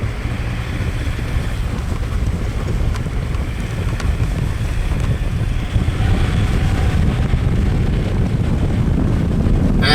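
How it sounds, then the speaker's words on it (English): Ford Everest Sport SUV engine pulling hard on a road test, a steady loud low rumble and road roar with heavy wind buffeting, continuous throughout without speech. "plenty of grunt with this engine"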